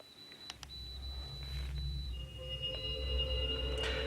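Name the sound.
EMF meter beeping during ghost hunt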